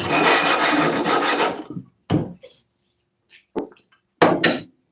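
Wood being worked down to a finer point in a live workshop build: a dense, steady rasping stretch for about a second and a half, then several short, separate scraping strokes with pauses between them, fairly close and loud.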